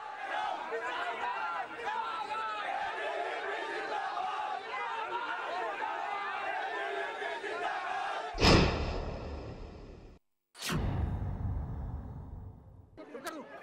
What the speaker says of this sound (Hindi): पुलिस वाले छात्रों को हटा रहे हैं, भीड़ को तितर बितर कर रहे हैं।